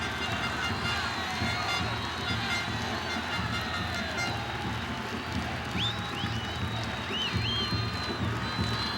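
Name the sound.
stadium crowd applauding Neymar at a football match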